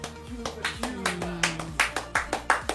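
Hands clap in a steady rhythmic beat at a football league celebration show, with a voice speaking or singing over the claps.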